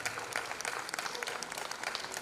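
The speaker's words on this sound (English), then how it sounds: "we just want to give her a round of applause" A school event audience gives a brief round of applause, quiet and somewhat distant, steady clapping lasting a couple of seconds.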